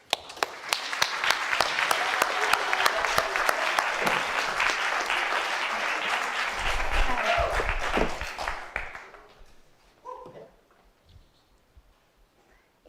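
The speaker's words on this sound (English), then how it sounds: "Let's get a round of applause to welcome Akela." An audience at a college speech night claps to welcome a student speaker, dense steady applause that fades out over several seconds, leaving a few scattered claps and faint voices.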